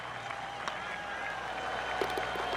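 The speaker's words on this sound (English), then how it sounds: "Yeah, golf clap." Golf spectators at TPC Sawgrass give a steady, polite round of light applause, a continuous patter of clapping heard from a short distance.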